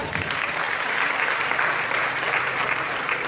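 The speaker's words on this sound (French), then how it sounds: "Applaudissements pour Dorcas." An audience at the Miss DR Congo beauty pageant final applauds a contestant, a continuous, moderately loud wash of clapping with no pause.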